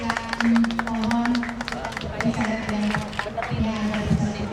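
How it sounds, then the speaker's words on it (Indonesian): Applause from a small outdoor group at a mangrove planting ceremony, rapid overlapping hand claps mixed with voices talking nearby. "Kita tepuk tangan untuk seremoni sudah selesai"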